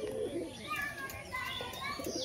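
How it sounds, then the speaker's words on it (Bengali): A flock of domestic pigeons, including a white one, coos and murmurs continuously nearby while people talk in the background. "দেখুন পায়রাগুলো সব।"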